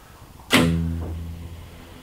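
A single plucked guitar note with a sharp attack, followed by a shimmering, sustained electronic reverb tail from a Line 6 POD HD500X particle reverb effect, fading slowly over about a second and a half.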